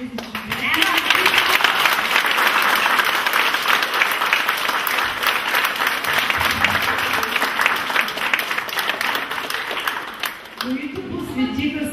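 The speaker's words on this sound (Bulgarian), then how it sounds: "Още веднъж ръкопляскания за тези чудеса" Audience applause for a children's dance performance at a kids' celebration, loud, dense and sustained clapping from a crowd for nearly the whole stretch, with a voice speaking briefly at the start and near the end.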